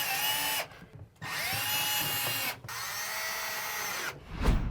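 A power drill drives fasteners to lock a bifold door track in place during a four-panel bifold install, running in three sustained bursts with short pauses between them, loud and close with no talking.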